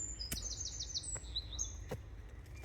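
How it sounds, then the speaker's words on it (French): Small birds sing outdoors in a quick run of high, fluttering chirps and tweets over a low rumble of background noise, with a few sharp clicks, fairly close. "Ils chantent les oiseaux."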